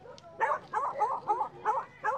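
A dog gives a run of six quick, rhythmic yelps or barks close by, evenly spaced, with faint background noise between them.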